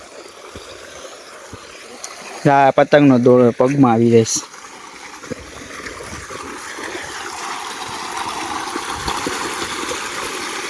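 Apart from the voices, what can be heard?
water flowing from a motor pump for irrigation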